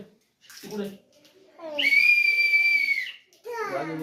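A child's toy whistle gives one long, shrill, steady toot lasting over a second, close and loud, with children's voices just before and after it.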